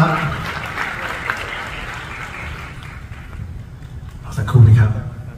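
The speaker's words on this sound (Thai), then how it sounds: "ขอเสียงปรบมือด้วย" Audience applause at a Xiaomi 12 Series launch event, a steady wash of clapping under a speaking voice, with a louder swell near the end.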